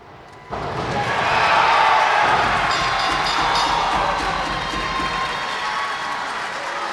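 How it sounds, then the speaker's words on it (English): Crowd at a live wrestling event cheering and applauding after a match outcome, a loud roar that swells suddenly and holds, mixed with clapping and shouts, then eases slightly while staying strong. "The crowd liked the outcome of that."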